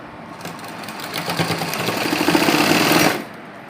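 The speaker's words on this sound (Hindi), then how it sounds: "और हमें सिलाई लगानी है।" Sewing machine stitching a lehenga skirt to its belt, a short burst of fast, rhythmic needle chatter that builds up close and stops abruptly after about three seconds.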